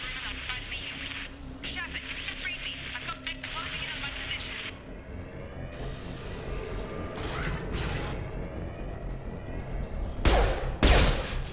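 Gunshots in the video game Mass Effect 2, a few sharp shots and impacts breaking through a busy battle background, mostly beneath someone talking over the gameplay.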